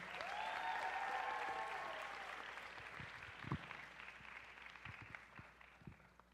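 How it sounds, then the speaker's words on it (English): Audience applause at the Origins Championship 2023 dance competition, a dense burst of clapping from a crowd that swells at the start and fades gradually, with a few louder claps near the end. "Please give a round of applause for Maddie Kamini."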